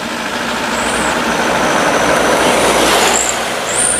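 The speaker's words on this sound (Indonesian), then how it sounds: "kita dapat yo satu masuk truk Ranger kayaknya nih" A Ranger truck drives in with a steady, loud engine rumble that fills the whole stretch, with faint high hissing squeals near the start and end and no talking.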